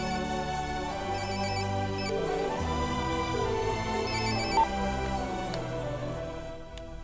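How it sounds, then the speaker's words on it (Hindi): A phone ringtone plays a continuous melodic tune of layered tones, steady and moderately loud with no talking over it, in a Hindi-dubbed movie scene. "ये लो, रिंग जा रही है"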